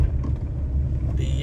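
Bus passing on a road, a loud, close rumble of engine and tyres sustained throughout, with a brief hiss near the end.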